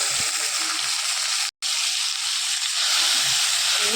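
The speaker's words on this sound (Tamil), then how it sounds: "இன்னும் கொஞ்சம் நேரம் வதங்க, ரொம்ப வதங்கிட வேண்டாம்" Onions fried brown, then tomatoes added, sizzling in a pan for a fish curry: a loud, steady, hissing fry that continues without a break apart from one very brief dropout, no talking.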